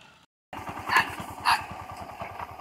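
A small motorcycle engine putters close by with an even, rapid low thump after a short silence, and a couple of sharp dog-bark-like bursts sound over it.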